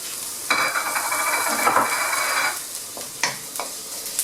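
Fried rice, which may include ham or spam, sizzles loudly in a pan while a utensil stirs and scrapes it. Close frying hiss is followed by several sharp metallic clinks, with no speech.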